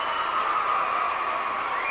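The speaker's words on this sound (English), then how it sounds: "Carroll's getting a well-deserved applause there" Crowd applause at a 2001 high school basketball sectional championship game, a steady wash of clapping and cheering from the stands, sustained and fairly loud throughout.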